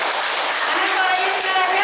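An audience at a Bali Berbagi community anniversary gathering claps together in a dense, steady burst of applause, loud and continuous across the whole moment, with voices mixed in underneath.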